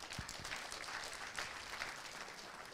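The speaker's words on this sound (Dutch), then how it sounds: "Nelson en Rick, geef ze nogmaals een applaus." A studio audience applauds the ball jugglers Nelson and Rick on a Dutch children's TV show, with a steady, fairly faint wash of clapping throughout.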